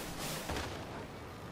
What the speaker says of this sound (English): My turret's hitting one guy good.